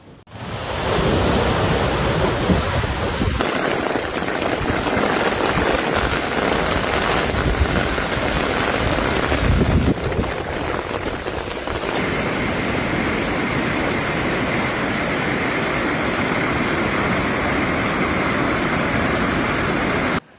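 Heavy storm rain and rushing flood water in Figueres, Girona, a loud, steady wash of noise that continues without a break for the whole stretch, with no voices.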